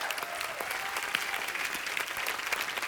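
Sustained, dense applause from a studio audience at a Hindi comedy talk show taping, steady and fairly loud throughout with no break.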